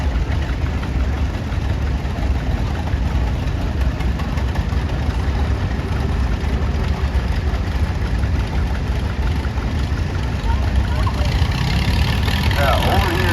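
A 1936 John Deere AR tractor passes in an outdoor threshing show parade, its engine a steady low chugging rumble under crowd noise and talk.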